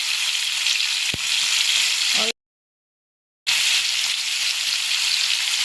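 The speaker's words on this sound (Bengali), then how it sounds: "তেলও খুব ভালো করে গরম হয়ে গেছে এবার আমি আলুগুলোকে দিয়ে দেব" Potatoes sizzle in hot oil with a steady, loud, broadband frying hiss that cuts out for about a second midway and then resumes at the same strength.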